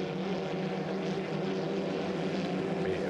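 A 1.5-litre racing hydroplane at a St-Félicien race roars at full throttle as it accelerates out of a turn, a loud, steady engine drone holding for several seconds with no speech.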